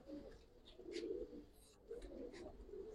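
A young Giribaz pigeon coos in soft, low, throaty rolls, a few murmured phrases close by over faint background noise.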